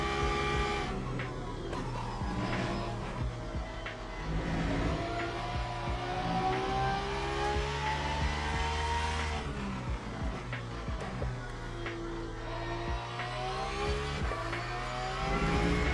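Porsche race car in the racing video game Le Mans Ultimate at Imola, engine droning steadily throughout with rising and falling revs, fairly loud and continuous with no talking.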